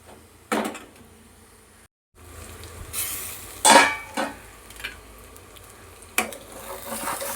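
Brinjal fries with green chilli paste in a pan, giving a low steady sizzle broken by a few scraping stirs and clinks of the spoon against the pan.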